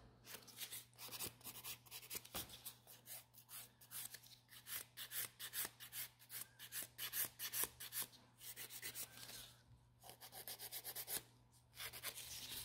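A hand file rasps on gel nails around the cuticle area in quick, repeated strokes. The filing is close and soft, with a low fan hum running underneath the whole time.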